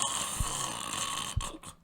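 A person imitates snoring with a low, breathy rasp that repeats twice over a steady background hiss, fairly faint and with no talk.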